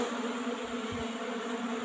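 Apis cerana honeybees swarming around an old-style wooden hive box during a honey harvest, a dense, steady close-up buzzing hum with no break.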